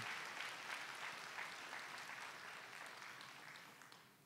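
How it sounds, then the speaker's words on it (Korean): A church congregation at a Korean Sunday worship service claps for the children, a quiet, dense wash of applause heard from a distance that slowly fades toward the end. "우리 친구들을 위해서 박수 한번 뜨겁게 해주시기 바랍니다"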